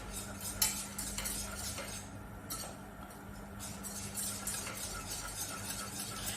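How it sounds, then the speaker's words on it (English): A dairy-free cheese sauce is whisked in a pan, giving quiet, continuous metal clinks and scrapes against the pan, close by and without speech. "Let's give it a whisk, and it'll just get a little bit thicker."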